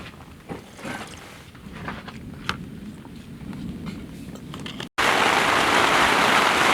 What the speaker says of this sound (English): every time we go camping, it rains.